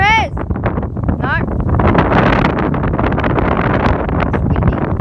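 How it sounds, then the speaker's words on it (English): Heavy gusting wind buffets the microphone outdoors at a parkour session, loud and roaring throughout with brief voices at the start. "It's windy."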